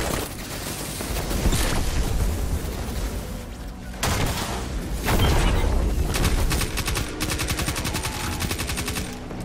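SMG fire in the shooter Destiny, with rapid, loud bursts of automatic gunfire repeating in several stretches and mixed with booming impacts, close and dense with no talk.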